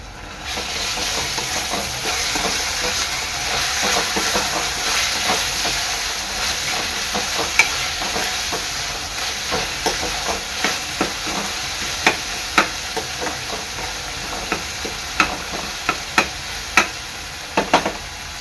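A ground paste of lightly roasted dry coconut, ginger, garlic, green chili and coriander fries in oil with a constant close sizzle, broken by frequent sharp spoon scrapes and taps that grow more pronounced toward the end.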